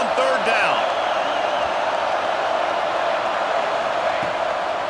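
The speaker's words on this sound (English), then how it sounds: "Here comes this home crowd as the defense tries to get off the field on 3rd down." Home crowd at a Michigan State football game on third down, a sustained roar of cheering and whooping from a large stadium audience, steady and loud throughout.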